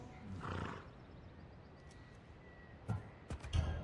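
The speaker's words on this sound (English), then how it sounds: "I heard the neigh of a fierce horse." A horse in the video game Assassin's Creed Odyssey gives a loud neigh early on, followed by quieter background and a few sharp thuds and snorts near the end.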